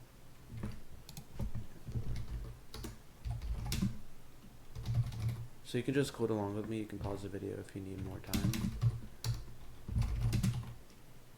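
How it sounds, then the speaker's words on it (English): Typing on a membrane computer keyboard clatters in bursts of soft key presses under a man explaining code, with the tapping continuing between and during his sentences. "I'm gonna get a new keyboard so you won't have to hear this membrane keyboard in the background"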